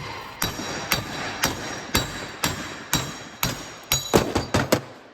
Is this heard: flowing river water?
no